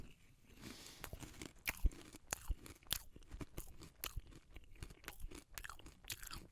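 Crunching and chewing on a rice cake, up close, with sharp irregular crunchy bites and wet mastication repeating through the whole stretch and no talking.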